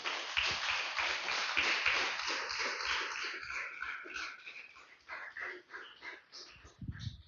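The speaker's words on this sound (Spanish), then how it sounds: "Denle un fuerte aplauso al Señor, amigo." A church congregation claps during a Spanish-language sermon, with dense applause for the first few seconds that thins into scattered claps and breathy, muffled noise toward the end.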